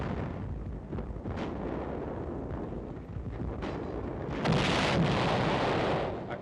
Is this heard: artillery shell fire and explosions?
yes